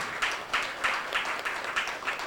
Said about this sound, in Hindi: क्या हम जोरदार तालियां बजा सकते हैं परमेश्वर के लिए?